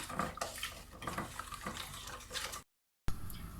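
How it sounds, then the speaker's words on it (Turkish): A tahini pudding mixture of flour and water being stirred by hand in a pot, with scraping and clinking of a utensil against the sides in quick, uneven strokes, a brief silence, then more stirring. "Karışımımı karıştıracağım."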